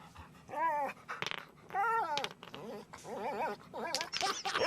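A dog whimpers, whines and growls in a series of strained, pitched bursts, a recreation of a dog that had eaten five pounds of rocks, moderately loud and with no talking.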